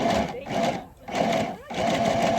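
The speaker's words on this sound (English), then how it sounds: "A sewing machine on the trail?" A small battery-powered DC sewing machine on an outdoor trail whirs in steady bursts, pausing briefly twice before starting again, fairly close.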